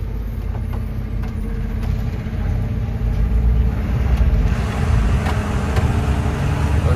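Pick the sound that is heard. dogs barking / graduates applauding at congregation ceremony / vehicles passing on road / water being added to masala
vehicles passing on road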